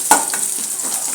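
Cumin and mustard seeds hit hot oil for a tempering in a tomato dal rasam, giving a brief pop followed by a steady, close, bright sizzle.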